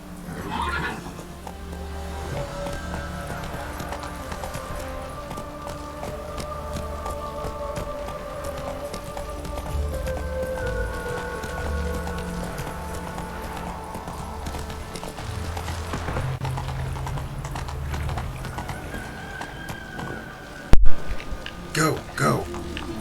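Horse hooves clip-clopping at a run in The Witcher 3, a steady near rhythmic beat carried for most of the stretch under game music and ambience, with a few sharp louder knocks near the end.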